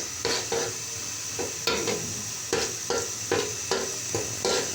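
Washed, drained rice fries in a pan for biryani, a constant sizzle broken by regular scraping stir strokes every half second or so.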